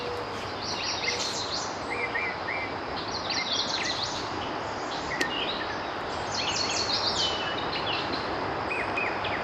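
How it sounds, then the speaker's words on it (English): Many birds chirping and singing at once in the distance in a nature preserve in the Poconos, over a steady outdoor hiss, calls overlapping throughout. "So many birds singing."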